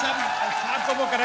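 Applause from the crowd at a political public rally in Khetri, Rajasthan, a steady wash of clapping that runs the whole time beneath a speaking voice.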